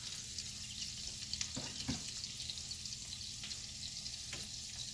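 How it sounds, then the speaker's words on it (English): Ribeye steak frying in butter in a cast iron pan on a stove, a steady close hiss and sizzle with occasional sharp pops and spatters, no voices. "It's because this butter splatters a lot"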